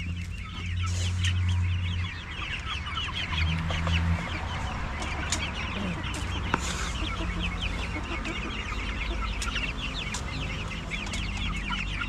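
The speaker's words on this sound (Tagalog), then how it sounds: "Tapos ito na din yung mga sisiyo natin." Chicks and ducks in a backyard cheeping and clucking steadily, with a chicken's low clucks early on, a busy continuous chorus close by and no talking.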